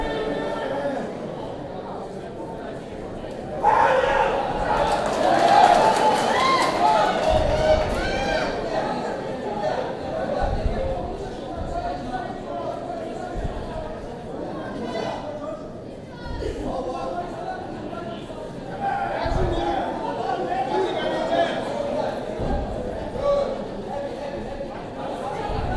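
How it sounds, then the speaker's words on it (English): Crowd at a fight event gives a steady babble of many voices with occasional louder swells, while a nearby voice talks over the noise. "You can tell the crowd's excited to be here."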